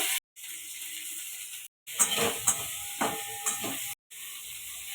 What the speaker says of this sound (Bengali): আমার মশলাটা ভালো করে কষানো হয়ে গেছে